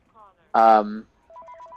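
A phone rings with a short electronic tone burst and then a rapid warbling trill, heard close and clear after a brief moment of speech.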